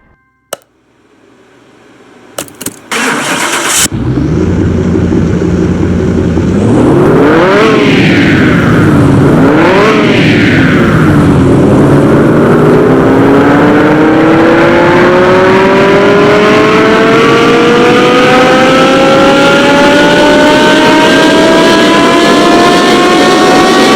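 An 1140 HP Lamborghini Gallardo Superleggera on a dyno starts with a few clicks and a loud bark, revs twice, then winds up in one long, steady pull to a loud, high-pitched roar that lasts to the end.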